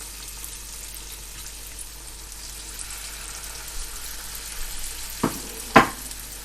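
Banana fritters (pazham pori) deep-frying in hot oil give a steady, moderate sizzle, then two sharp clatters near the end as something knocks against the pan.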